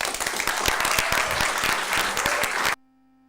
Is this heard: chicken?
no